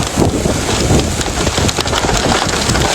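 Dense, loud pelting and drumming of large hail in a severe thunderstorm in the New York and New Jersey area, mixed with rushing wind, a constant heavy clatter with no voices.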